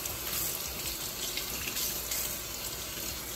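Tap water runs in a steady, fairly soft stream into a sink while a lace frontal wig is rinsed after bleaching its knots.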